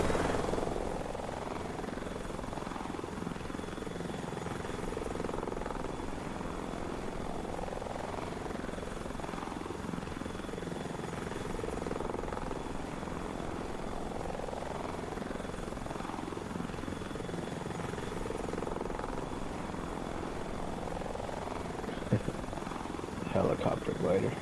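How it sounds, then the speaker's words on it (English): A helicopter glider in a video game, its steady rotor drone running continuously and fairly loud throughout, with a person talking over it. "I've had this helicopter glider since the release for PS Plus back in 2020"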